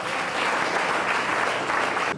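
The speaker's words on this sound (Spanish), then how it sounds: "Denle un fuerte aplauso a nuestro Dios." A church congregation claps loudly after being urged to praise God, a dense, steady wash of many hands that holds at full strength and then cuts off abruptly.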